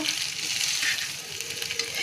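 Vegetable chowmein fries in a hot wok with a steady, close, loud sizzle that holds evenly throughout, with no voices over it.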